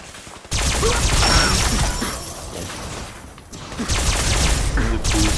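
An alien assault rifle fires in a modded Fallout game, loud bursts of crackling, shattering energy blasts in two main volleys separated by a brief lull, with faint speech underneath.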